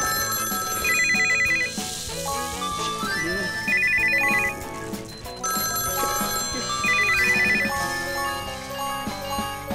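Several electronic phone ringtones chime at once in a theatre auditorium, bright repeating melodic tones overlapping in bursts with a short gap, loud and close, with faint voices underneath.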